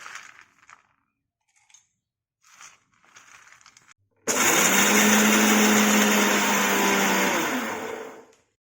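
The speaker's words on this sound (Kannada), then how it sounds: "ಗೋಡಂಬಿ ಮತ್ತು ನೆಲಗಡಲೆಯನ್ನು ಮಿಕ್ಸಿ ಜಾರಲ್ಲಿ ಹಾಕಿ ಪುಡಿ ಮಾಡಬೇಕು" A mixer grinder jar powders cashews and peanuts for date laddu. After a few seconds of faint handling sounds, it roars on abruptly as a loud, steady whirring drone, then winds down near the end.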